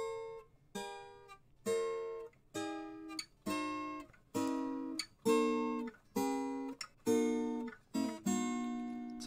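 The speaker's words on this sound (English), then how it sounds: "we've also got some other guitars going on" Guitars playing a melody of about ten plucked notes in a steady rhythm, each ringing clearly and decaying before the next, close and alone with no other sounds.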